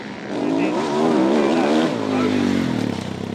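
Racing sidecar motorcycles at a British Championship sidecar meeting at Wakes Colne scream past on track, a loud sustained engine roar with pitch shifting downward as they go by, a commentator's voice faintly underneath.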